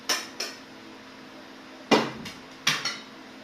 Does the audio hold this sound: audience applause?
no